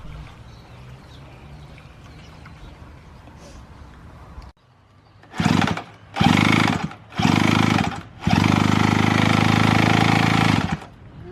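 Small petrol engine with a refitted spark plug being pull-started, four loud bursts of engine noise with short gaps, the last one running for a few seconds before stopping abruptly, after a quieter stretch of low background hum.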